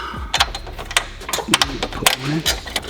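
Metal bolts for a Cusco rear brace on a GR Corolla are picked up and jostled, giving several short sharp metallic clinks and rattles close by, with a voice speaking between them.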